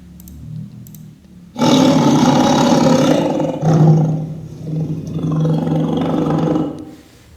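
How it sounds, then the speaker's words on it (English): A tiger roar sound effect plays back in a Unity mobile app, loud and close, as one long snarling roar followed by a second rumbling growl that trails off. "so we will drag the tiger sound here"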